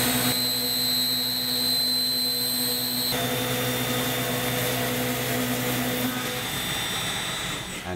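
A milling cutter held in a Schunk TENDO E hydraulic tool holder cuts metal with a continuous high whine and steady tonal hum, changing pitch partway through as the cut shifts, no talking.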